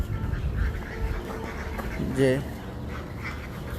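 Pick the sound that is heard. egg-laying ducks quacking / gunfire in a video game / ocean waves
egg-laying ducks quacking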